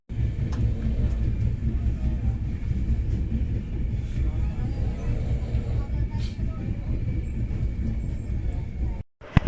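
Passenger express train number 12618 running from Delhi's Hazrat Nizamuddin station toward Kerala, a steady loud rumble of wheels and carriages continuing throughout, close and unbroken, with faint speech-like sounds mixed in.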